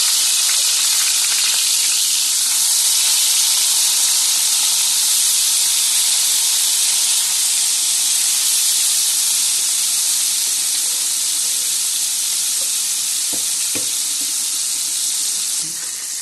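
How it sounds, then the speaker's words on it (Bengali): Bata fish dropped into hot oil in a wok, giving a loud, dense, continuous sizzle and hiss that holds steady for the whole stretch, with a couple of faint utensil clicks near the end. "তেলটা গরম হয়ে গেছে, এবার আমি বাটা মাছগুলো একটা একটা করে ছেড়ে দিচ্ছি।"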